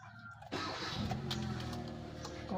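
A car engine cranks and catches after a quiet moment, then settles into a steady idle, heard during scanner-based troubleshooting with the water temperature sensor being checked.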